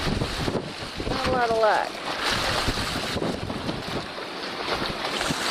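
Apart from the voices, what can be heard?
strong wind of Tropical Storm Lee at a dock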